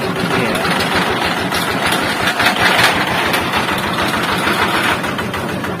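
A riding tractor engine at a Kanchanaburi workshop runs at a loud, steady idle with a continuous low chugging rumble from close by throughout.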